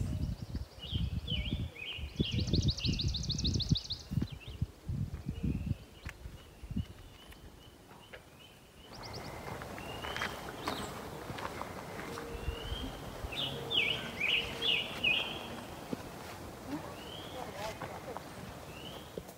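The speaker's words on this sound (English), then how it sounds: "Listen to the birds." Birds sing and chirp in short phrases, fairly clear, over quiet outdoor ambience, with rustling and heavy footsteps early on.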